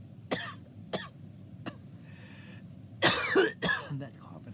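A person coughs several times, with single sharp coughs spaced about a second apart, then a louder, harsher cluster of coughs and throat clearing near the end, close and alone against quiet background noise.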